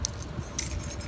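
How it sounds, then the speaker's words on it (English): A set of small keys jangling close by in a few quick metallic bursts over about a second, with no talking. "Keys."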